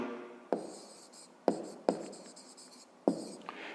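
Pen or pencil writing on paper while working a grade-5 maths exercise, with four sharp tapping strokes and soft scratching in between, close and fairly quiet, no talk.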